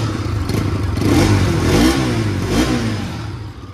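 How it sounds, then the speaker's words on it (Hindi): A Bajaj Pulsar RS200 2024 BS6 motorcycle engine is revved by hand, the pitch rising and falling through a few quick blips over an idle, close and loud with no talking. "एक बार थोड़ा सा रिप करते हैं और सुनाते हैं आप लोगों को आवाज़।"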